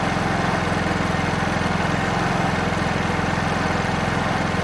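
A 50cc petrol scooter engine idles up close after a carburetor screw adjustment, a steady, even putter with a fast regular pulse and no change in speed.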